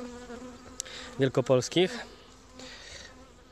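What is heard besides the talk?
Buckfast honey bees buzzing at hive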